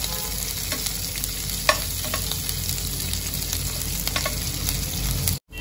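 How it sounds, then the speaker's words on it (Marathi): Dried bombil fish fry in a pan over a medium flame, a loud steady sizzle and crackle close up with occasional stirring scrapes, then a brief dropout near the end. "ह्याला कमीत कमी 5 मिनिटं मी तळून घेणार आहे, चांगले लाल होऊ देसपर्यंत।"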